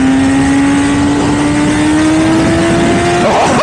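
A BMW S1000RR 1000cc sport motorcycle accelerates hard, its engine a loud, continuous high-pitched wail that climbs steadily in pitch throughout, close up with strong wind noise.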